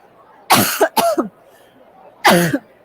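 Three sharp coughs close to the listener, two in quick succession then a pause before a final one.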